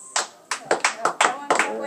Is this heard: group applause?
yes